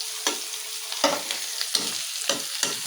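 Onions being stirred and fried in a pan for a fish chorchori with potato and eggplant, a steady sizzle broken by repeated scraping stir strokes about every half second, close and alone.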